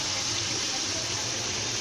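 A cup of water pours into a pan of frying potatoes, tomatoes and green chilies, giving a steady, close, rushing splash and hiss that runs unbroken for under two seconds.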